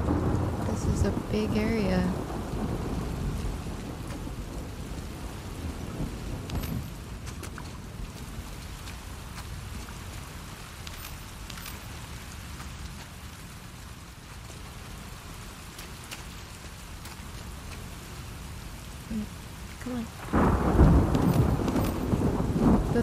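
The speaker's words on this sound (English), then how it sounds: "The thunder does not make me feel good." Thunder and steady rain fill The Last of Us Part 2, with heavy rain hissing throughout, low rumbling thunder, and a louder crack near the end, while a person speaks briefly at the start.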